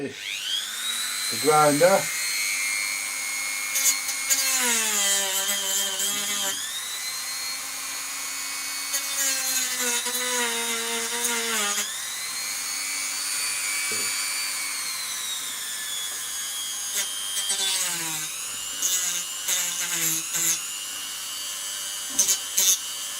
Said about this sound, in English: Now all we do is get the grinder.